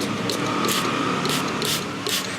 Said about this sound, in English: Okay, spray a little bit of it